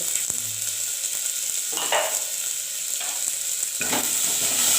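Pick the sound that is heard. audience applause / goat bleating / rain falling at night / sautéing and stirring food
sautéing and stirring food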